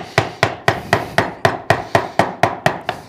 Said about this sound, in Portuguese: você já estará familiarizado com o uso do formão e com o macete